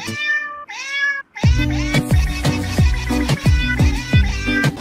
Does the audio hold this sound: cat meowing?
yes